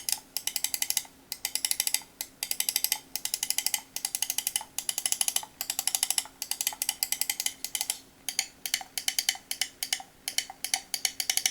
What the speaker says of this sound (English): the scroll wheel saves the day here, it's light, has well-defined steps